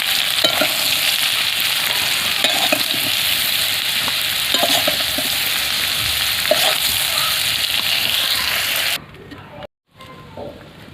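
Young jackfruit and potato pieces sizzle steadily in hot oil in a pan, a loud continuous crackle with faint stirring scrapes, cutting off near the end into quiet with a short dropout.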